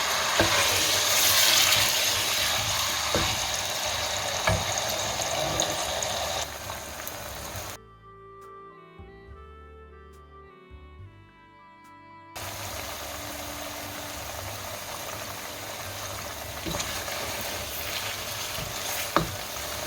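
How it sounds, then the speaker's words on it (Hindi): Chicken pieces sizzle steadily in hot oil in a pan for a restaurant-style white chicken karahi, a dense close hiss that stops for a few seconds while music plays, then resumes as before. "अब हम इसमें चिकन को डाल देंगे और चिकन को फ्राई कर लेंगे।"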